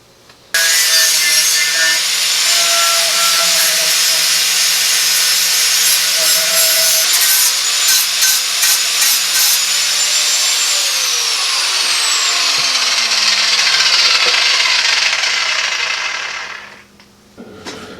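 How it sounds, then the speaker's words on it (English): A flapper wheel on a power tool grinds metal on a Husqvarna garden tractor snowblower chute part, a loud, steady, rasping abrasive whine that holds for about sixteen seconds before cutting off, with no talking. "So I got to clean this up with the flapper wheel so I can MIG it."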